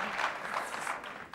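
Studio audience applauding Michel Legrand and Annie on a French television show: a dense, steady patter of many hands clapping, held at an even level for the whole moment with no voices over it.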